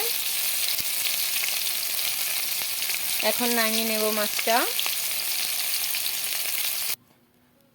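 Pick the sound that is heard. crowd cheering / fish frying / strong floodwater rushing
fish frying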